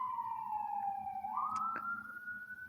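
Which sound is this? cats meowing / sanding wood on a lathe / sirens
sirens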